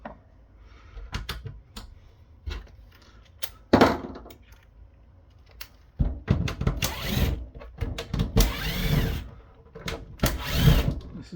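T10 screws come out of a Sonicwall TZ 170 firewall casing in a series of sharp clicks, taps and short whirring, rattling bursts, sparse at first and then denser and louder toward the end.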